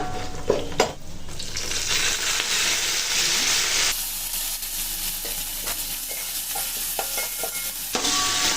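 Dried red chillies fry in hot oil for masala murmura, giving a steady close sizzle with scraping stirs and light utensil clicks throughout; a brief quieter stretch in the middle before the hiss swells again.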